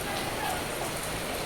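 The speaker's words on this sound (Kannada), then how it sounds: "ಮೊದಲನೇ ದಿನನ ಬಂದೈತೆ ಮಳೆ" Rain falling over farm fields on the first day of the season, a dense steady patter and hiss that fills the air evenly and is fairly loud.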